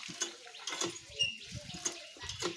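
Clothes are washed by hand at home, with short, uneven splashes and sloshes of water in quick bursts, close by and moderately quiet.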